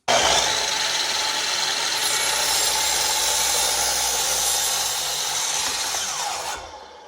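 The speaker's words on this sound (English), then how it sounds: "So I'm using a jigsaw" A jigsaw cuts through two wooden boards at once in a workshop, a loud, steady buzzing saw noise running continuously before stopping abruptly at the end.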